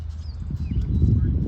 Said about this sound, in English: There is so much power in this horse.